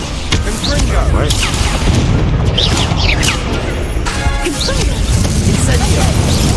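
Confringo explosive spell blasts in Hogwarts Legacy go off repeatedly with heavy booms and crashes amid a loud, dense combat din, mixed with shouted voices.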